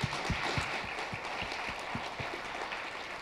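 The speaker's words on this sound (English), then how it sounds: "Let's give them a round of applause." Applause from the audience at the closing session of the Netdev 2.1 networking conference, a fairly quiet, steady patter of many hands with a few distinct nearer claps punctuating it, and no talking over it.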